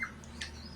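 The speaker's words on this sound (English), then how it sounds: "looking more and more like the beautiful English zebra finch that she is" An English zebra finch gives a couple of brief, sharp squawks, one at the start and another a little later, close but quiet over a low indoor background hum.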